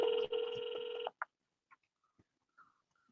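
A telephone rings during a repeated call, one loud electronic ringing burst of about a second, then near silence broken by a few faint clicks.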